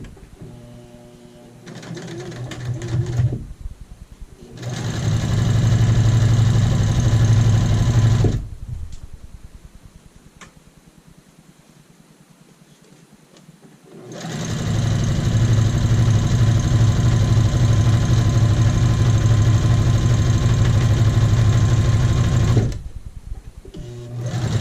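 A sewing machine stitches an apron hem in two long, loud, steady runs with a quiet pause between them, and a brief start at the beginning and end.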